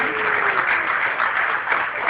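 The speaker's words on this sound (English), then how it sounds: "Can we have another round of applause for the movie artist and for our guest, Sloan?" An audience at a Q&A session with a movie artist and a guest gives continuous applause. A steady wash of clapping is muffled and band-limited, as if recorded on a low-quality phone.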